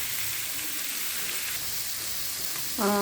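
Sardines frying in hot oil in a home kitchen, a steady close sizzle and crackle throughout, with a brief clatter of stirring near the end.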